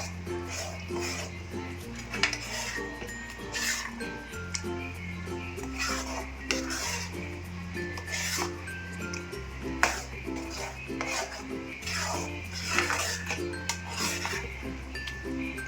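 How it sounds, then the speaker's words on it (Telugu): Chicken pieces being stirred into butter chicken gravy in a pan, with repeated scraping and clinking of a utensil against the metal pan in an irregular rhythm over a steady low hum, close and moderately loud. "సో చికెన్ పీసెస్ని గ్రేవీతో మంచిగా మిక్స్ చేసుకుందాం"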